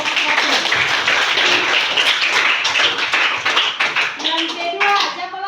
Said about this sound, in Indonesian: silakan tepuk tangan dulu untuk kelompok 1